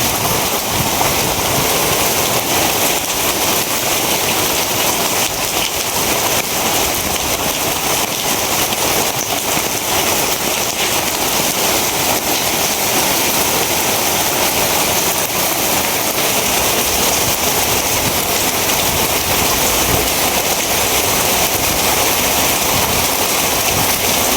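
Steady heavy rain pours down without a break, and gusting wind mixes into the dense, loud hiss at a rural home. No one speaks.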